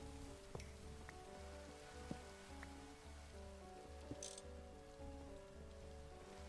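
Steady rain pattering down in the video game Minecraft, a soft continuous wash with faint game tones and a few small clicks layered over it, with no talking.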